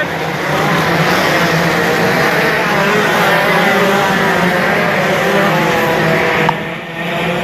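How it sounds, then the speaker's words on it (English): Racing karts at a kart circuit heading out for a formation lap, a steady loud buzzing engine drone throughout that drops off sharply near the end. "There they go, they're just coming out for the formation lap."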